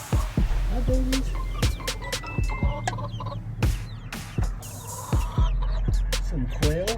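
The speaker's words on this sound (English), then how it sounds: "Some quail, they're full grown, and some baby chickens." Baby chickens and full-grown quail at a desert ranch chicken farm, giving a close, busy mix of short chirps, peeps and clucks that keeps going throughout.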